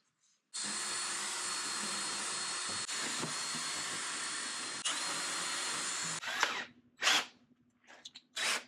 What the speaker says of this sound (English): So I'll drill holes based on where my transfer screws marked.